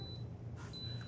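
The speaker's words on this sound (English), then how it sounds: "Okay, there's the beep." A kitchen timer set while a breakfast sandwich cooks gives a faint, thin electronic beep, briefly interrupted and then resuming, over a low steady background hum.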